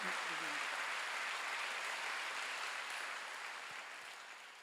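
Congregation applauding during a Wednesday church worship service, a broad steady wash of clapping that fills the room and slowly fades toward the end.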